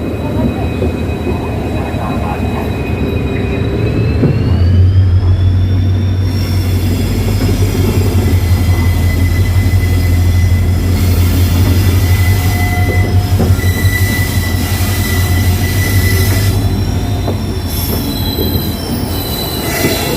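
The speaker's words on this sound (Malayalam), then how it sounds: "ഇപ്പോൾ മംഗലാപുരത്ത് ട്രെയിൻ ഡിപ്പാർട്ട് ചെയ്തു കേട്ടോ." A diesel-hauled passenger train pulls out of Mangaluru Central, its wheels squealing in long high tones over a loud, steady rolling rumble on the rails throughout.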